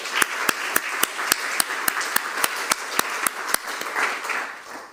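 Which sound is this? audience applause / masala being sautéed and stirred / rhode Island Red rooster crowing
audience applause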